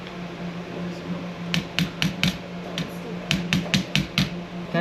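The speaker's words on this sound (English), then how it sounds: "And then you just have to hammer it back in." Sharp metallic taps from hammering a Japanese sword fitting back into place: about a dozen brisk strikes in small clusters, close and fairly loud over a steady low hum.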